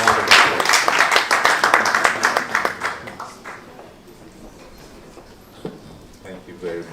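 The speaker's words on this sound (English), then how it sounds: "Please, thank you for giving me a round of applause." An audience breaks into loud, sustained applause, then the clapping thins out and fades over several seconds.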